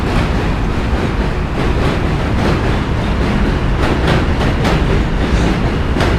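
A New York City M subway train rumbles past loudly and steadily, wheels clattering over the rails with a continuous roar throughout.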